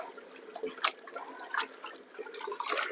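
Turnip greens being washed by hand in a tub of water, with soft sloshing and splashing that comes in small bursts, close and fairly quiet, and no talking.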